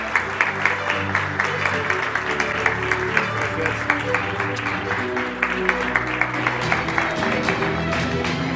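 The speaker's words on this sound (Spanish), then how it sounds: "muchas gracias por el aplauso" Sustained applause from a conference audience at a leadership and coaching congress in Argentina, steady dense clapping throughout with occasional sharper claps, continuous and fairly loud with no speech over it.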